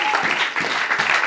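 Church congregation applauding and cheering together, a dense, loud, continuous wash of clapping with small swells in rhythm and no clear speech on top.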